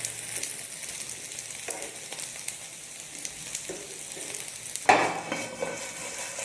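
Food frying on high heat in a pan until crisp on both sides, a quiet continuous sizzle with occasional spatula scrapes and one sharper clink near the end, close up and without speech.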